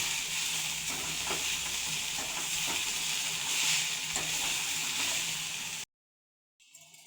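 Fish maker with onion and chilli is stirred and sizzles in a frying pan, a steady hiss of frying with scraping spoon strokes, close and continuous before cutting off abruptly.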